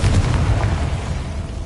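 A Confringo blasting spell goes off in the video game Hogwarts Legacy, a loud, deep booming explosion that rumbles on heavily for about a second and a half with no voices over it.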